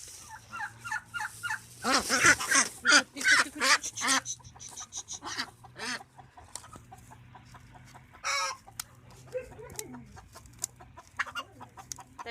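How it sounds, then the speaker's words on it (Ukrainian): Pair of ducks on a farm giving repeated quacks and gabbling calls in uneven bursts, close and fairly loud, with a person softly hushing them at moments. "придбали ось такі качечки, парочку"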